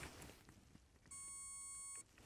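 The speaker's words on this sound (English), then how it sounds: "It also has little beeps, different beeps for ground or hot." A circuit tester probe checking wiring on a Ford 7.3 diesel gives a single steady electronic beep lasting about a second, faint against a quiet background.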